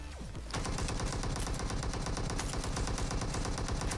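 Sustained, loud automatic gunfire in a video game, with a dense rapid stream of shots beginning abruptly after a brief lead-in and continuing without pause to the end, with no talking.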